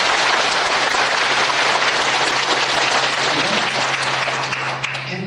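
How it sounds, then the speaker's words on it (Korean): Loud, sustained applause from a church congregation during a sermon, dense and steady clapping filling the hall for the whole stretch with a low hum underneath. "우리 하나님께 감사의 영광의 박수 힘차게"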